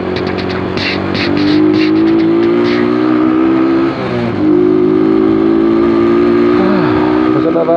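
A car drives past at a road junction with bus lanes, engine noise swelling and fading over a steady loud traffic hum, with a driver talking throughout.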